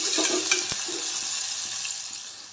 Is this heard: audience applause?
no